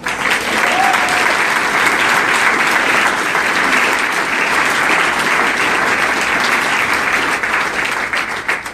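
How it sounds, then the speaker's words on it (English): Audience at a town hall meeting applauds volunteers who helped with parking, ushering and sign-in, a steady, dense round of clapping that stays loud and even throughout before easing slightly at the end. "So please give them a round of applause."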